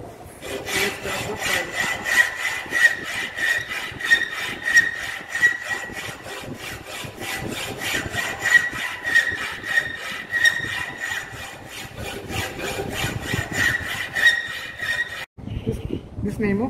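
A flat file strokes across a metal workpiece clamped in a bench vise, giving a steady run of rhythmic rasping strokes, loud and close, that stops briefly near the end.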